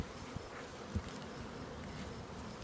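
Honey bees hum around an open hive at an apiary, a soft continuous buzz with a few slightly louder passes, fairly faint and without any talking.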